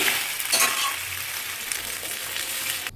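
Chili chicken with gravy sizzles and bubbles steadily in a pan after a little water is added, a continuous close frying hiss with faint stirring clinks and no voices.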